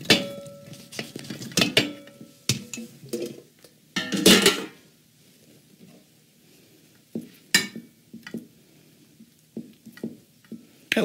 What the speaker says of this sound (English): Let me get my casserole dish. You can just go ahead and, put them in.